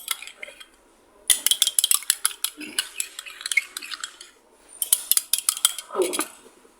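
An egg is beaten by hand in a bowl for egg soup. Quick clinking strokes of the utensil against the bowl come in two close, busy runs separated by a short pause.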